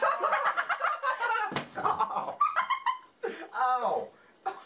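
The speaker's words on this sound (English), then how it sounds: "No, that's a dog." A dog barks, yips and whimpers in short excited bursts close by, mixed with people talking and laughing during a blooper take.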